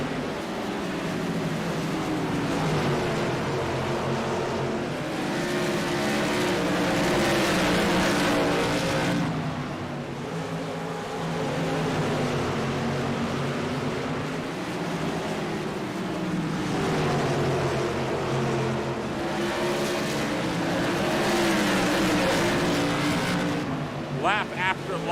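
Stock race cars circle the short oval at Southern National Motorsports Park, their engines a dense, continuous roar that swells and fades as the pack passes, with a commentator talking over it throughout.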